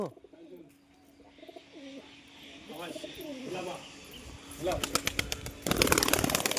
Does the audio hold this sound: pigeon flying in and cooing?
yes